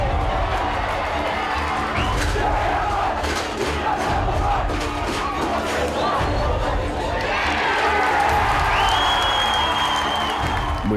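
A home crowd roars at a schoolboy rugby match at St Joseph's Nudgee College, loud and sustained cheering, shouting and clapping that swells again near the end.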